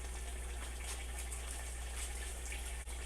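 Water poured into a cooking pan over chicken thighs to make a sauce, a steady faint splashing trickle without pause.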